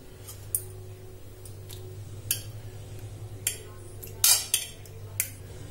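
A spoon scoops homemade curd in a metal vessel with a few sparse, light metallic clinks and taps, close by, over a low steady background hum.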